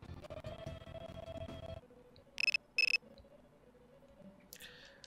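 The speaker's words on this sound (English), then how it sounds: "Ah, my phone is ringing." A mobile phone rings in the Persona 3 Portable video game as two short, bright electronic ring bursts in quick succession, faint over a quiet background with no talking.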